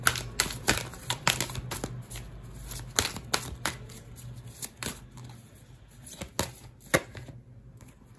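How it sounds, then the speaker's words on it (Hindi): Tarot cards being shuffled and drawn from the deck, a run of sharp flicking and slapping card sounds in irregular bursts, close and alone. "तो और भी कुछ कार्ड्स हम निकालते हैं और जाने की कोशिश करते हैं।"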